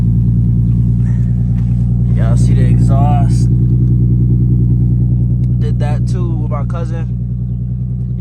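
Modified Infiniti Q50 exhaust rumbles as a loud, steady low drone throughout, while someone talks over it in short bursts.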